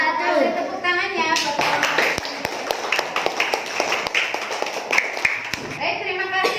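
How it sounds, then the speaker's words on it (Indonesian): Children in a classroom clap together in a burst of sharp, scattered hand claps lasting several seconds, with young voices chattering underneath before and after. "Kasih tepuk tangannya."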